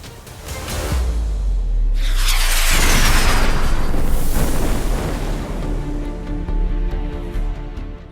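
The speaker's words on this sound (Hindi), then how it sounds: "विस्फोटों की आवाज" Explosions at night in Jaisalmer, India, during a Pakistani attack: a heavy, rumbling blast swells into a long roar and fades slowly, with a low boom lingering underneath; loud and continuous without voices.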